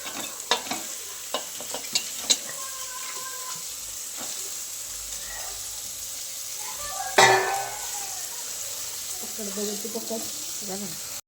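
Fish sizzles in a hot pan with chilli powder while a utensil scrapes and clatters, with one louder hissing burst partway through as the fish is added.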